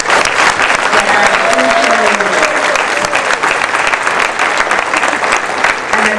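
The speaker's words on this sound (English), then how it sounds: "one more round of applause." Loud, sustained audience applause at a formal podium event, many hands clapping in a dense, continuous roar with a few voices faintly audible beneath the clapping.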